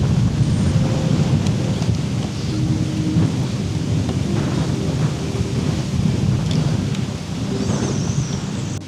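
A rainstorm with wind and thunder at a wild Florida campsite: a steady wash of rain and gusting wind, with low thunder rumbling continuously underneath.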